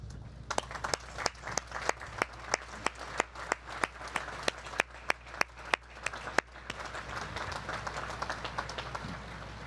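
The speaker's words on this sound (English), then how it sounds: "Please join me in recognizing and applauding these distinguished graduates." An audience at a Naval Academy commencement claps for the graduates, sharp individual claps close to the mic standing out over a wider hall of applause, steady and rhythmic before blending into a fuller wash.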